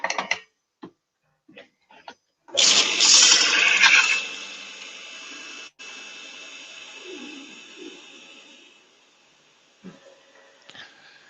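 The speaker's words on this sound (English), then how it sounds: "I'll just quickly sharpen this gouge, and that should help with the finish." A bench grinder sharpens a woodturning gouge in a workshop with a short, loud, harsh grinding hiss lasting a few seconds, then fading into a softer whir between scattered knocks and clicks.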